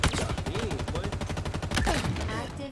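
Rapid automatic gunfire in Halo Infinite multiplayer rattles in an even, fast stream of shots, loud and close, with brief game voice and player talk around it.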